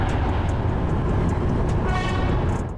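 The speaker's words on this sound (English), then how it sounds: "The driver certainly wasn't afraid to use the horn just in case though." Horn of the Solo to Wonogiri train in Indonesia, a sustained tonal blast sounding near the end over loud, constant running noise of the moving train, with no talk.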